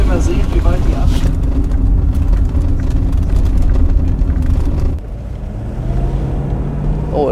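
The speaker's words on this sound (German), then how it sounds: "Auto hat eine tolle Beschleunigung." A 1976 Mercedes 450 SEL 6.9 with its nearly seven-litre engine pulls hard, heard from inside the cabin as a loud, deep, rushing engine and road roar that drops off near the end, with people talking over it.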